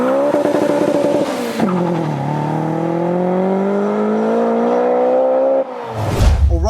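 A supercharged HKS Honda S2000 with 416 bhp screams as its engine climbs steadily toward a high-rpm peak, a loud, close, rising mechanical whine held for several seconds before a gear change and a burst of tyre and road noise.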